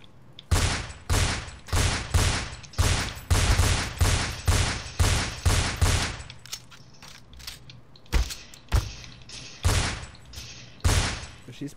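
Pistol gunfire in the video game Counter-Strike: Source, a rapid, loud, evenly spaced string of a dozen or so shots followed by a few sparser shots with mechanical clatter between them.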